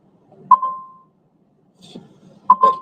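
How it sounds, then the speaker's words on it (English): A parked truck's warning beep sounds as two short, clear electronic tones about two seconds apart, each with a brief tail, over a faint low hum and some quiet background sound. "That beeping you guys hear is actually"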